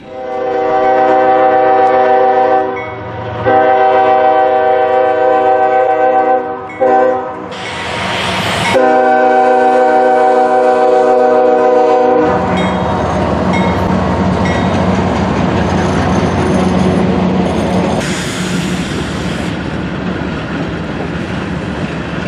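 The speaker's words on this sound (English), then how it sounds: "we saw a CSX Grain Train on the Burt line" A CSX grain freight train rumbles loudly past a railroad crossing up close, its horn blaring in long blasts, then steady rolling clatter of wagons continues.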